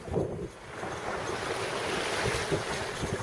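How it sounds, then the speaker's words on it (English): Strong southwest wind gusts by the sea on a bright afternoon, a steady broadband rush with low buffeting rumble against the microphone throughout, surf-like and fairly close. "The wind is blowing quite strong from the southwest."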